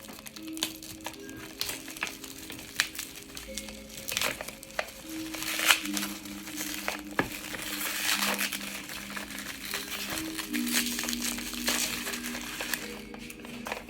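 Cassette tapes are unwrapped from newspaper and bubble wrap, giving close, steady crinkling and crumpling with scattered sharper rustles and pops throughout.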